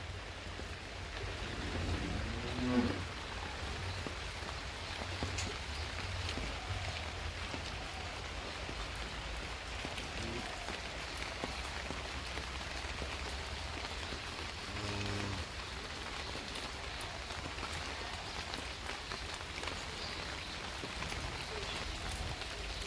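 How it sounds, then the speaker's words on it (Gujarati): Steady, heavy monsoon rain patters on a surface at a farm for the whole stretch, a continuous even hiss with no pauses. "અને આજે વરસાદ બી ફૂલ લાગેલો છે"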